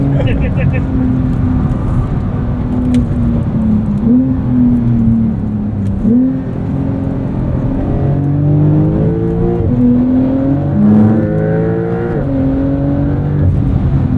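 A 2023 Porsche 911 Turbo S pulls away and accelerates hard, its engine note rising through repeated gear changes, loud and close from inside the cabin.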